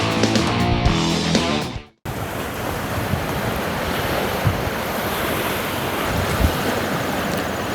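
Ocean surf and wind at Orchard Beach roar in a steady close wash with gusty buffeting on the microphone, following a brief burst of other sound that cuts off abruptly.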